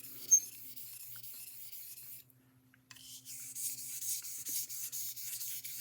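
A straight razor edge is refined on a hone in quiet, soft scraping strokes, a faint rasping hiss in repeated passes, briefly pausing in the middle before resuming, close and gentle with no voices.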